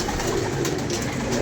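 Pigeons kept by a pigeon fancier coo softly and continuously, a low murmur of overlapping calls close by with no talking.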